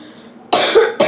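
A person coughs twice, two loud, close, harsh bursts in quick succession after a moment of quiet.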